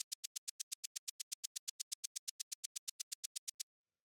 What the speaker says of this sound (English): The next thing that we have here is the shaker